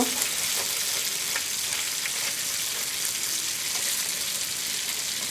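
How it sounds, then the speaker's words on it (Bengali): A rui fish head fries lightly in hot oil, giving a steady, even hiss and sizzle with faint bubbling crackles that holds at a constant loudness from start to finish, with no talking. "হালকা করে ভেজে নেব"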